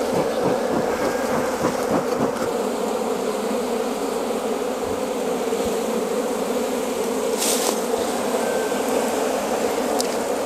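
Honey bees at an opened, smoked hive with comb holding honey and pollen give a dense, steady buzz that fills the whole stretch without a break, close to the listener.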